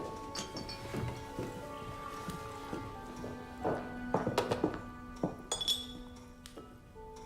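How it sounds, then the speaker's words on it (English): Glass clinking while claret wine is poured at a holiday gathering, several sharp bright chinks scattered over about seven seconds, close and moderately loud, with a soft liquid-like patter underneath. "Cameron, darling, why don't you pour Tilly a glass of claret?"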